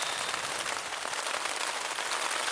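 Steady rain falls outside a shelter in the wilderness, a continuous even hiss of drops pattering on surfaces with no breaks or voices.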